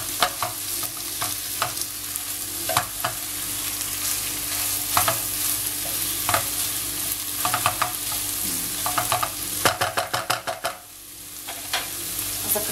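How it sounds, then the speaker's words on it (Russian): Minced meat stews in a pan with a constant gentle sizzle, punctuated by repeated spatula scrapes and taps, which cluster into a quick run of strokes near the end before the hiss fades. "С фаршем мы также будем тушить около 5 минут, периодически помешивая."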